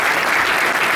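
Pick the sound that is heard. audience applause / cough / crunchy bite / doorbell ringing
audience applause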